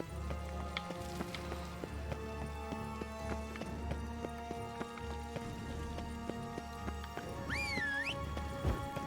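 Geralt's horse Roach galloping in The Witcher 3: Blood and Wine, steady rhythmic hoofbeats over a musical game score, with a rising synth sweep near the end.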